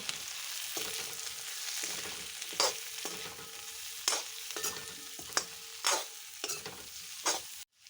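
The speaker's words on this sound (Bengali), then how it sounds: "পরিমাণ মতন হলুদ এবার আমি ভালো করে নাড়াচাড়া করে নেব" Fish curry with turmeric being stirred in a pan: a steady frying sizzle runs throughout, broken by repeated sharp scrapes of a spoon against the pan, loud and close, with no voices.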